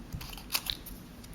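Scissors trimming card paper while making an iris folding card, a few quick crisp snips close by, separated by brief pauses.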